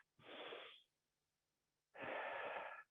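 Two deep breaths taken as part of a tai chi relaxation break, each a long, close, airy inhale or exhale lasting under a second, separated by a pause of quiet.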